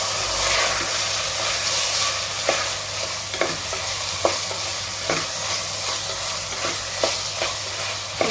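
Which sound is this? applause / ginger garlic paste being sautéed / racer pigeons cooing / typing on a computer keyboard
ginger garlic paste being sautéed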